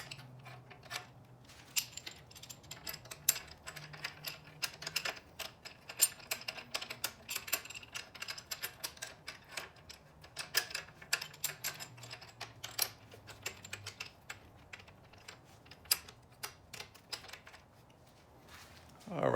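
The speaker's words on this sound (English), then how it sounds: "I'm gonna see if I can slide the seat in here without taking the bolts completely out." A RaceFace Ride seatpost slides and clicks into a black Surly clamp on a Surly Disc Trucker bicycle, with a run of small close metallic taps, scrapes and rattles over a low hum.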